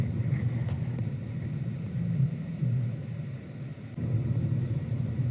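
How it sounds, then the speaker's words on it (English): A low, steady 2025 GMC Sierra 1500 Denali pickup engine idle rumbles from inside the cab, quiet and even with a faint hum and no voices. "just the idling noise is soothing"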